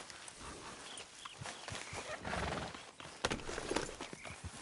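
Horses in the Red Dead Redemption 2 video game, with hooves clip-clopping and snorting, plus occasional neighs and shuffling in a rural outdoor setting, fairly close and continuous at a moderate level.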